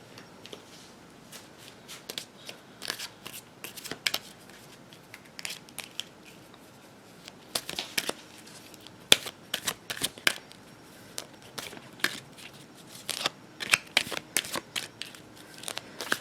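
Oracle cards from an Angel Answers deck are shuffled by hand in a quiet room, giving repeated soft riffling bursts and crisp card flicks that come and go in irregular clusters, close and fairly light, with nobody speaking.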